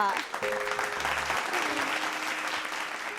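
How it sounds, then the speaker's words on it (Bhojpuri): Audience applause at a folk music stage show, a dense steady clapping of a sizeable crowd sustained throughout, with a faint tonal instrument and brief talk beneath it. "जोरदार ताली बजाए दे जा"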